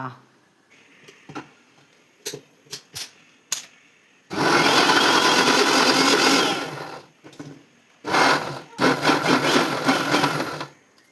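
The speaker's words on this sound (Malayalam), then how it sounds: "എൻ്റെ മിക്സി അത്യാവശ്യം നല്ല ഒച്ചയിൽ തന്നെയാണ്" A loud kitchen mixer grinder runs in two long, harsh bursts separated by a short pause. Scattered taps and clatters come before the first burst, and a voice is heard nearby between the runs.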